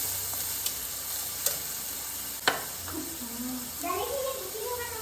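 Sliced onions fry in a pan, a faint steady sizzle with a few sharp utensil clicks and scrapes, while a voice briefly sounds in the background near the end.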